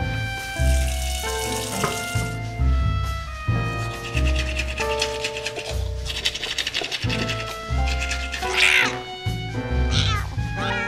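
A cat meows amid loud music with sustained tones and rhythmic beats, the cries partly masked by the mix and rising briefly toward the end.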